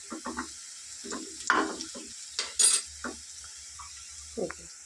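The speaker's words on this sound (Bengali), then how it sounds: "দেখতেই পাচ্ছ পেঁয়াজগুলো কিন্তু মোটামুটি ভাজা হয়ে গেছে।" Onions frying in a pan make a soft sizzle under intermittent clinks and stirring scrapes of a utensil against the pan, in short bursts close by.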